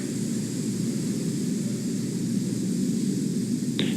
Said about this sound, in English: There's confirmation, stage 1 landing burn.